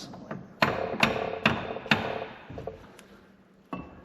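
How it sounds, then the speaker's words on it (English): A mallet taps a lower shaft into the transmission housing of an antique Caterpillar RD4 tractor, giving about eight sharp knocks in a loose rhythm, close and clear, with no talk. "Almost need a mallet."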